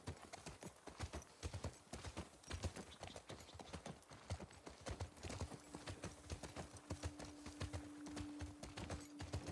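Steady clip-clop of horse hooves at a walking pace in The Last of Us Part 2, close and rhythmic, with a faint sustained tone entering partway through.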